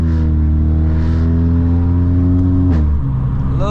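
A loud Volkswagen Scirocco driving on a Scottish road, its engine droning low and steady from close inside the car, then dropping pitch as it shifts, with no talk.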